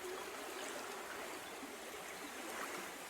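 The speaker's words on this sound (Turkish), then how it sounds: "şu anda bir nehir kıyısındayım, bir akarsu kıyısındayım" A stream flows past a river bank, a soft, continuous rushing and trickling of water heard alone at low level with no voices.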